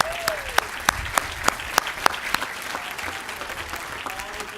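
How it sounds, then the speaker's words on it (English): Audience applause at a 2013 graduation award presentation: a steady wash of clapping with a few sharper nearby claps standing out, fairly loud, without talk over it. "Let's give them a round of applause."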